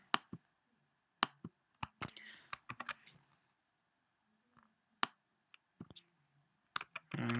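Sharp, isolated clicks of a computer mouse at a desk during drawing work, coming singly and in quick clusters with near-silent gaps between them.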